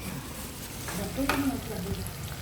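Potato stir-fry frying on a home stove, a soft steady sizzle with a brief clatter midway, fairly faint against a quiet room.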